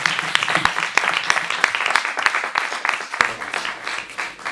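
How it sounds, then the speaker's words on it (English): Audience at a spelling bee championship breaks into sharp, scattered applause, individual claps distinct and lively throughout. "Give him a round of applause."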